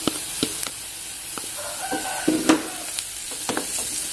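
Garlic sizzles steadily in a hot pan while being stirred for a creamy mushroom soup, with a continuous hiss broken by light scraping and clinking of the utensil against the pan.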